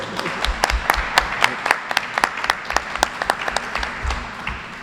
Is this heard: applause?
yes